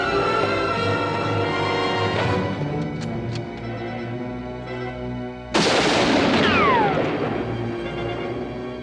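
Gunfire in a 1956 Western film scene: a burst of sharp shots and ringing reports, then a loud louder blast-like surge with ricochet whines, no speech.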